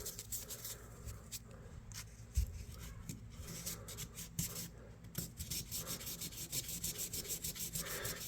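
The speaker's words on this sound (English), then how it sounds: "Well, I have to just keep sanding on it" A knife blade being sanded by hand during a restoration, producing quiet, continuous rubbing and scraping strokes with a few soft knocks, faint and close, and no voices.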